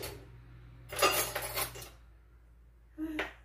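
Utensils clink and rattle as baking powder and a teaspoon are fetched in a kitchen, a close burst of metallic jangling, a quiet pause, then a shorter clink.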